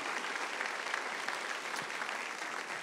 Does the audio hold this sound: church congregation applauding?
yes